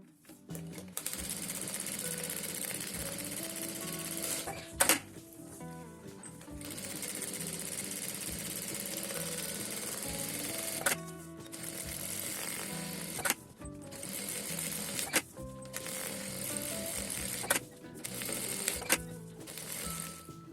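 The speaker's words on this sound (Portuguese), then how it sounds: "E depois eu coloco o papel em cima e passo a costura por cima do risco." A domestic sewing machine stitches through clear plastic and fabric for a cutlery holder, humming in a steady rapid rhythm across long runs, broken by brief pauses and small clicks as the work is adjusted.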